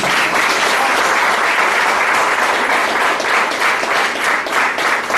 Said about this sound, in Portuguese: Você é capaz de dar uma salva de palmas para Jesus?